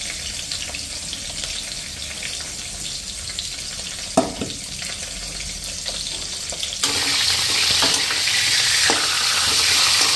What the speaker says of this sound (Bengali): ওইদিকে মাছের মাথাগুলি ভাজাও হয়ে গেছে